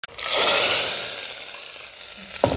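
Dried chillies hit hot oil already holding garlic while tempering a parippu olan curry, giving a sudden loud sizzle that slowly fades, ending with a brief clink of utensil or pan.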